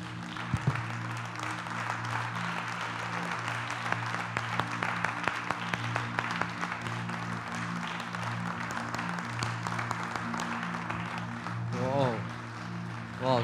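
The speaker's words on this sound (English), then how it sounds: "And can we clap, keep clapping?" A congregation claps during a Sunday worship service, a steady wash of applause over a low droning hum, loud and continuous throughout with a few sharper claps near the start and a voice rising toward the end.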